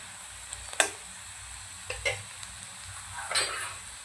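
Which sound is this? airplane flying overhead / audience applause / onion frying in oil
onion frying in oil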